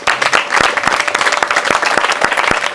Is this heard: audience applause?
yes